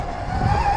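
A dirt bike brakes hard on a freeride dirt course. A short, loud, close skid of tires scraping over the surface comes with a steady engine tone.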